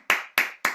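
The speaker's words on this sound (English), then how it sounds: "Should we clap now?" Three sharp, separate hand claps at an online poetry open mic, evenly spaced and close to the microphone, each with a crisp attack and a short decay.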